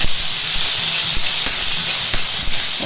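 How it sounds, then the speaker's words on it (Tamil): Green chillies and coriander seeds roast in a hot pan, giving a steady, close sizzling hiss with faint crackles and small clicks throughout, with no talking. "பச்சை மிளகா அது கொஞ்சம் வறுபட்ட உடனே இந்த கொத்தமல்லி வேறு, இந்த கொஞ்சம் நல்லா வறுக்கணும்"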